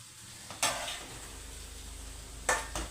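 Indian gooseberries frying in a pan for pickle, a low steady sizzle broken by two sharp scraping stirs of a spoon against the pan.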